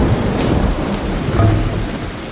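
Rain and thunder in the Minecraft video game, a loud continuous hiss of rainfall with low rumbling swells, steady throughout with no talk.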